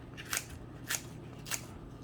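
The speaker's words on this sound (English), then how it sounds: "and then I just cut it with my kitchen scissors" Kitchen scissors make three crisp snips while cutting rolled-up food in a home kitchen. The cuts are close and evenly spaced over a quiet background.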